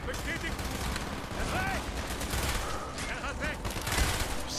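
Rapid bursts of gunfire from a weapon in Call of Duty: Black Ops, dense and loud throughout with a few louder shots, the player's voice heard faintly in between.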